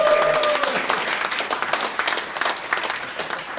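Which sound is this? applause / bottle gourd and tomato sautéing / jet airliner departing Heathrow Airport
applause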